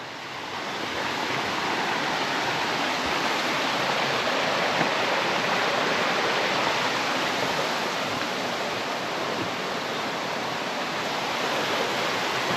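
A mountain stream rushes through forest beside a hiking trail near Rabat-les-Trois-Seigneurs in Ariège, a steady, loud, broadband wash of flowing water that holds unchanged throughout with no voices.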